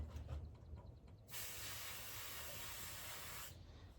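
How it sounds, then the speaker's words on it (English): A steady, close hiss of spray from an aerosol can runs for a couple of seconds, then cuts off. "take a little black spray paint and spray it on a Q-tip"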